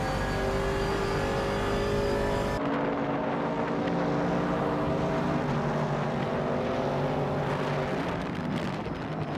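A 1967 Mercury Cougar racing engine drones at high revs with a sustained loud buzzing tone, the pitch shifting abruptly as it passes or changes gear, then holding steady and slowly rising.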